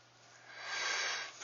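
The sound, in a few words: pencil sketching on paper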